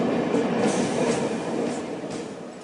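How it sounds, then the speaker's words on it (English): Train pulling into a station as a sound effect in a student stage drama, a steady rumbling roll of wagons with faint clatter, loud and continuous, slowly easing off toward the end. "Looks like another train has reached Shanti Kunj."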